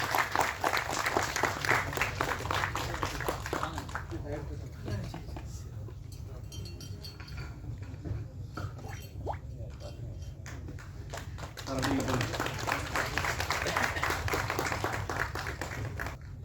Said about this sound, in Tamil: அப்புக்குட்டி அண்ணாவை கைத்தட்டி எல்லாரும் ஸ்டேஜுக்கு வெல்கம் பண்ணிடலாம்